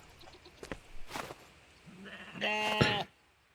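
Goats in the video game Contraband Police bleat close by, first with a couple of short calls and then one longer wavering bleat, with no other sounds.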